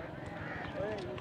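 Hooves of a desi-breed horse clip-clop faintly at a busy animal market, a soft uneven patter under a murmur of nearby voices.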